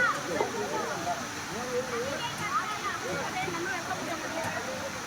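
Water rushes steadily at a Goa waterfall with deep slippery rocks where people bathe, a continuous broadband roar heard close, under people talking in the foreground.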